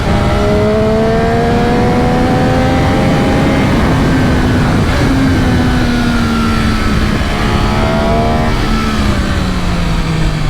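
An MV Agusta F3 800 RC three-cylinder sport motorcycle revs loud and close on the road, its engine note rising steadily and then dropping slightly before climbing again, with no talking.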